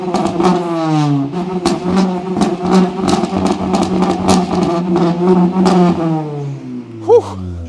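A Honda Jazz fitted with an exhaust flame kit, revved hard with rising and falling engine notes and sharp popping crackles over the exhaust drone, loud and close throughout.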